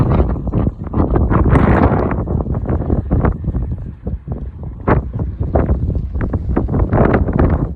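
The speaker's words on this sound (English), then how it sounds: "It's too windy." Strong wind buffets the microphone in loud, continuous rumbling gusts, with irregular bursts of low roaring throughout.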